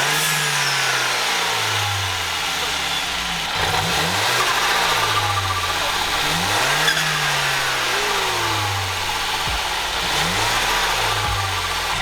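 A BMW 1 Series F20 114i M Sport with a Stage 1 tune and performance exhaust revving, repeated rising and falling engine sweeps over a steady idle, loud and close.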